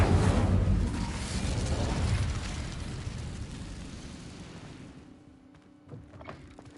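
An Incendio fire spell is cast in Hogwarts Legacy, setting cobwebs ablaze with a loud roaring whoosh of flame that fills the first seconds and then slowly fades into a crackling tail, followed by a few soft clicks.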